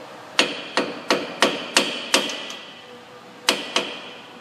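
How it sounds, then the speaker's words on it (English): A hammer taps a bolt down into a Ford Focus or Transit Connect front wheel bearing hub during a repair, eight sharp metallic strikes in a steady run, then a pause and two more, close and distinct over a quiet room. "you got to stick your bolt in over here and tap it down until you actually find the hole"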